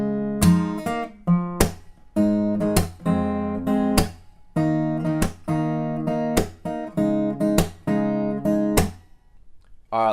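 Acoustic guitar plays the chorus riff of Justin Bieber's "What Do You Mean," a run of plucked notes and strummed chords in an uneven, syncopated rhythm with short pauses, clear and close with no talking.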